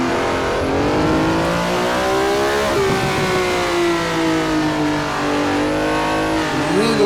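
Race car engine in Assetto Corsa at Laguna Seca on cold tires, a loud, close, harmonic-rich roar that climbs and drops with gear changes and a brief tire squeal, with no voices.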